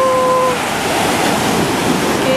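Sea waves on a Spanish beach after the Levante wind make a steady, loud, close rush of surf and wash that continues without a break.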